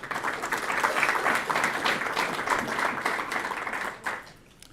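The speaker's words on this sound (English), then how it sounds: "I assume that applause was for Sarah rather than for me." A university lecture audience claps steadily for a few seconds, moderately loud and fairly even, before the applause dies away into near silence.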